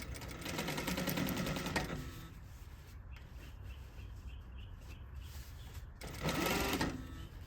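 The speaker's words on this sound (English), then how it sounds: "So I'm gonna push it up, feel it, make it nice and straight, sew it over." A sewing machine stitches a corset seam containing boning, running in steady close bursts with a short pause between runs of stitching.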